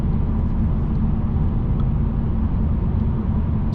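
Steady, dense wind and road roar inside a 2021 Mercedes E400 cruising on the highway at about 133 km/h, a constant low rush with no speech.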